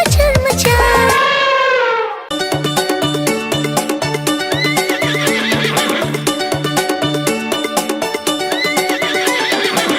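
A horse neighs loudly with a rising whinny, then cuts away to a steady, rhythmic clip-clop of hooves set against bright, busy children's rhyme music that fills the rest of the stretch.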